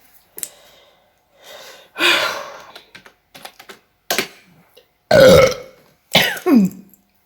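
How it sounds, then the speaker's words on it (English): A cat lets out several short, wet burps one after another with gaps of quiet between them, loud and close, with no talking. "my cat burped suddenly"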